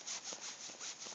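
A hand saw cuts a Christmas tree outdoors in snow, several quick rasping strokes in a steady back-and-forth rhythm, close and fairly soft.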